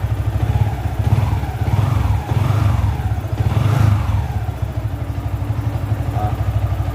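Yamaha Vixion NVL motorcycle engine idling while warming up after a month unused on a weak battery, a steady close, loud low throb with rapid even pulses and a few gentle revs.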